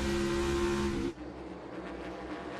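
NASCAR race cars at speed at Nashville, with a loud engine roar that cuts off abruptly after about a second and leaves a lower, steady rumble of distant cars.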